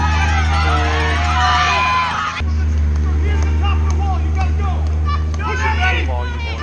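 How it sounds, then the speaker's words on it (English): A crowd cheers and shouts for a runner at a state track meet, continuous loud outdoor hubbub with overlapping voices and kids shouting, close and busy throughout. "all you hear is people cheering for you"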